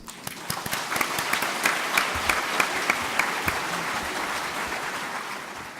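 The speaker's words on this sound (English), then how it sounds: "Let's welcome Dexter Del Monte with a warm round of applause." An audience at a poetry book launch event breaks into steady applause for an introduced speaker, a dense wash of clapping with a few sharper claps standing out, moderately loud and fading slightly toward the end.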